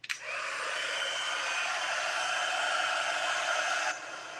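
A heat embossing tool blows hot air while crafting handmade Christmas cards, a steady close hairdryer-like whoosh that starts abruptly, holds for about four seconds, then drops slightly.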